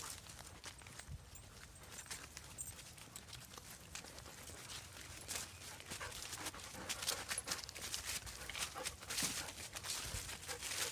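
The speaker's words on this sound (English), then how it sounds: "Are those not happy looking dogs?" Dogs panting in rapid, steady breaths, fairly faint against a noisy outdoor background, with occasional footsteps or clopping mixed in throughout.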